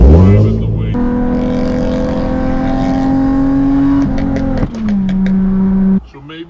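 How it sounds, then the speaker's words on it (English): A Nissan 350Z idling with a defective, illegal muffler gives a loud, droning exhaust note that holds steady, then drops in pitch as the revs fall, before a sharp cut near the end. "So maybe you have a defective muffler as well as an illegal one."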